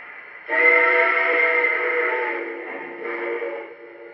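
A steady steam whistle from a Lionel C&O F19 model train blows for about three seconds, dips briefly, then sounds again in a shorter second blast, clear and fairly close.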